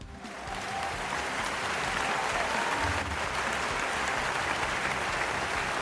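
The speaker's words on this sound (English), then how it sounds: "he deserves the claps, man." Sustained, dense applause from a crowd, steady and fairly loud throughout with no voices over it.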